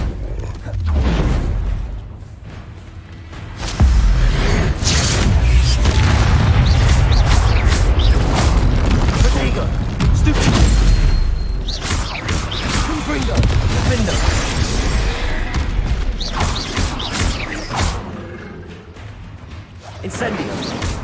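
Confringo fire spell explosions in the video game Hogwarts Legacy, repeated booming blasts and crackling bursts over roughly twenty seconds, mixed with combat noise, music and occasional voices.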